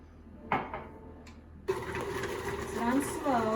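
An electric mixer on slow speed folds chocolate chips and toasted pecans into cookie dough, a steady motor whir with a rhythmic churning rattle; a voice speaks briefly before the motor starts.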